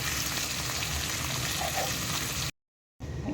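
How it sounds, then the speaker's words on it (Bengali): Fish frying in hot oil gives a dense, steady sizzle that fills the clip, then cuts to a brief silence before the crackle resumes. "সব মাছগুলো ভাজা হয়ে গেছে"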